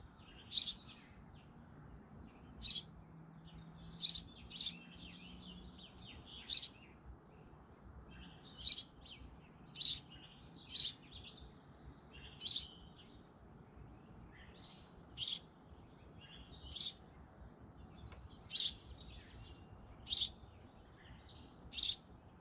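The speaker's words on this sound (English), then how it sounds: "listen to the different bird calls that you hear in the background" Small garden birds give repeated sharp chirps and tweets, about a dozen bright calls spaced a second or two apart, moderately near over a faint steady outdoor background.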